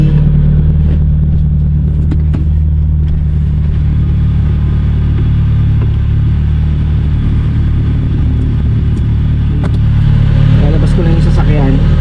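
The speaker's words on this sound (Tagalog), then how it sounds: "Lalabas ko lang yung sasakyan." A car engine rumbles steadily and close as the vehicle is driven out. The low drone is continuous and loud throughout, with a voice faintly over it.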